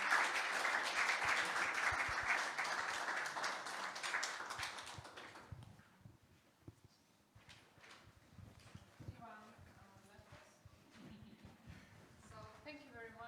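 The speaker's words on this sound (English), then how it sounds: "give them one more time applause and small gifts for memory." Audience applause for four conference speakers at a youth policy conference, loud and dense at first, then fading after about five seconds into quieter scattered claps and murmuring voices.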